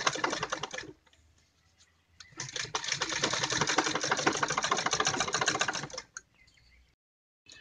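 A sewing machine stitches a kurti neckline in two runs, a fast steady rattling whir close up, with a brief burst and then a longer stretch of several seconds separated by a quiet pause.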